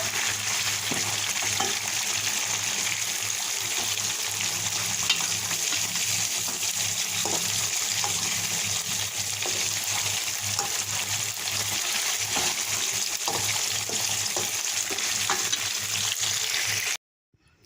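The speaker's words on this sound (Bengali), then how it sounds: "আস্তে তালে কষিয়ে নেব মাছ থেকে অনেক তেল বেরিয়েছে" Pangas fish fries in plenty of oil with a loud, steady, close sizzle and occasional soft stirring, continuing unbroken until it cuts off abruptly near the end.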